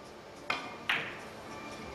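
Two sharp clacks of billiard balls during a professional women's three-cushion bank shot at the LPBA championship final, close and distinct over the low hum of the hall, no voices.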